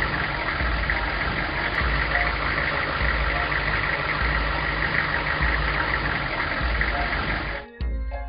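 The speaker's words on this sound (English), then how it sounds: "Vintage fire engine." A vintage fire engine idles with a steady, rumbling mid-pitched engine drone and slight knock, running evenly before cutting out abruptly near the end.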